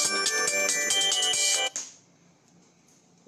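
A telephone ringtone plays loudly and steadily for under two seconds, a bright repeating electronic melody that cuts off abruptly and leaves only faint room hum.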